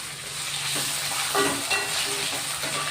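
Finely cut potatoes fry in a pan with a loud, steady sizzle, broken by the scrape and clatter of stirring close up, with no voices.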